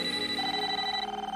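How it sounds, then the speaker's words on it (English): A steady electronic telephone-style ring from a toaster in an animated series, with sustained tones, loud and close, lasting about a second and a half before cutting off. "Your toaster's ringing."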